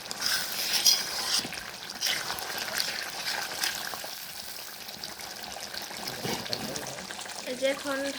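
A pot of red chicken curry with potatoes fries and simmers as the meat releases its oil, making a steady wet sizzle and bubbling. Someone talks over it throughout.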